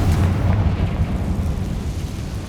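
The Confringo spell goes off in Hogwarts Legacy as a loud, deep, rumbling blast that fills the whole moment and slowly fades, heard alone with no voices.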